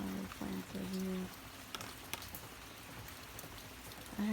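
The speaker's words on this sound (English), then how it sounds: "Different sounds of the rain." Rain falls steadily on yard plants in Hawaii, a soft broadband patter with scattered louder drops; brief low voice-like sounds appear near the start and end.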